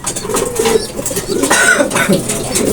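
A racing pigeon arriving at the loft on the seventh lap of a Tacloban race gives soft, low cooing, with a brief wing flutter, amid nearby talking voices.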